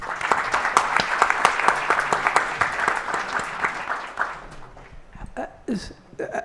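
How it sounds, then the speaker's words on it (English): Audience applause for panelists at a World Health Summit regional meeting, dense rapid clapping from a room of people that holds strong for several seconds, then thins out into scattered claps and brief voices. "let's give our panelists a round of applause"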